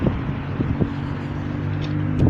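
Wind buffets the microphone in a steady low rumble, with a few soft thumps and flaps, loud and close.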